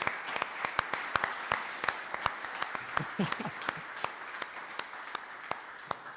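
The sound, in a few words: audience applause for Jenna Schwartz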